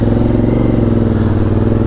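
A Honda VTR 1000 V-twin motorcycle engine running close by, a loud, deep, steady lumpy throb with pulsing low rumble for the whole short stretch.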